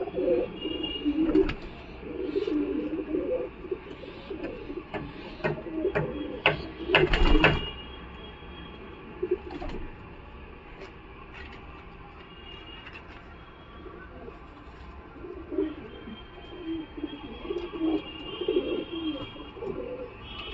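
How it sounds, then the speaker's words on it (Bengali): Male pigeons, including Dobaj and Giribaz types kept at a Galiff Street pigeon market, coo in low repeated pulses amid busy market noise and distant voices, with a louder clatter partway through. "এটা নর পায়রা"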